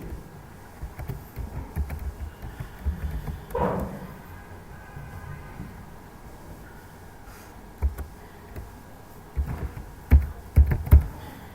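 Fingers typing on a computer keyboard, scattered soft clicks near the mic, speeding into a denser flurry of sharper keystrokes toward the end over quiet room noise.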